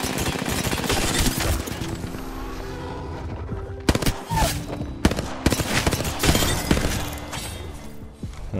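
Hemlok rifle firing in a shooter game, rapid bursts of gunshots with sharp cracks and short breaks between volleys, loud and close throughout.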